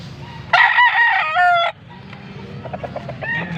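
A gamefowl stag, a full-grown young rooster at a market in Angeles, Pampanga, lets out one loud, close crow lasting about a second, then softer clucks and scattered farmyard noise follow.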